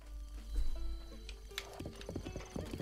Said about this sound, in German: Lol, man kann so mit dem Pferd reiten.